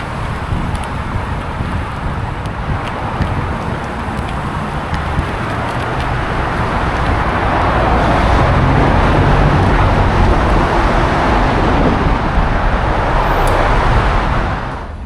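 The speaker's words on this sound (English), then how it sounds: "the traffic is all slowed down." Slowed road traffic passes close by in a city street, a loud continuous broadband rumble of engines and tyres with wind buffeting, steady throughout and swelling slightly in the second half.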